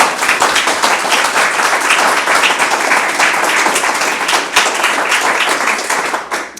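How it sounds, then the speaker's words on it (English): Audience at the 2024 Aquarion Environmental Champion Awards in Connecticut applauding, loud, dense, continuous clapping filling the room from start to finish, thinning slightly at the very end. "Let's give him a round of applause."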